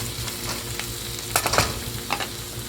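Shrimp sizzles steadily in a hot pan over medium-high heat, with a few louder crackling bursts and the scrape of stirring partway through.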